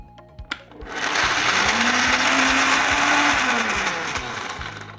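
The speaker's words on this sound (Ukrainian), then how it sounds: "Закриваємо блендер та збиваємо." A kitchen blender whirs loudly for several seconds while grinding walnuts with walnut oil into a smooth paste for a bean spread, the motor pitch sagging slightly under load before easing off, preceded by a couple of clicks.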